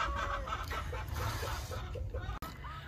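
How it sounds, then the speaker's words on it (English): Hens cluck and squabble over a favourite laying spot in a backyard flock kept with a rooster, a busy, continuous stream of clucks and squawks close by, with a person's voice mixed in. "they're fighting over their favorite laying spot too"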